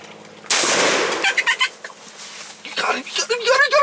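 A loud, sudden gunshot blast during a turkey hunt, followed by a ringing decay, with excited voices talking right after.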